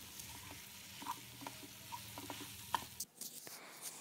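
Chicken being stirred through masala in a pan for Kerala-style chicken kondattam, with soft scraping strokes and a low sizzle repeating steadily at close range, no talking.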